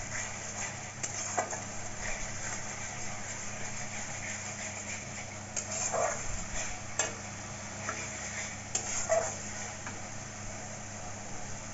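Spices with Kashmiri chilli powder stirred in a pan for Katla fish kalia: a soft, continuous sizzle broken by occasional spoon scrapes against the pan, fairly close and quiet.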